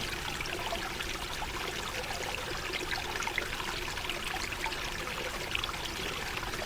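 Water flows steadily in a continuous soft trickling, pouring rush, moderately quiet and unbroken throughout.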